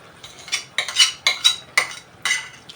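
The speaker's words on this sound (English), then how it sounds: "this is the juncture where I'll add my beans in. These are boiled beans," Boiled beans go into a cooking pot for Kenyan coconut beans, heard as a run of about seven sharp clinks and scrapes of a spoon against the metal at a fairly even pace.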